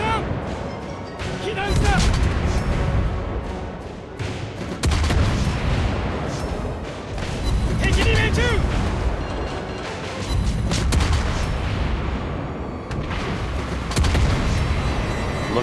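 Harugumo destroyer in World of Warships Blitz firing AP shells from ten fast-firing guns, a loud dense barrage of booms and rapid gunfire bursts repeating throughout with heavy battle noise.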